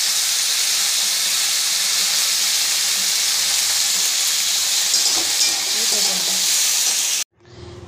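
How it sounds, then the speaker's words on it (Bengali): Chopped beans and carrots fry in a pan with a steady, loud sizzle and hiss for about seven seconds, stopping abruptly near the end. "কেটে রাখা বিনস আর গাজরগুলো ভেজে নেব।"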